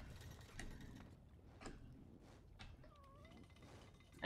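A cat meows once, a short rising-falling call heard near the end amid low background noise from a game scene, with a few soft clicks and thumps around it.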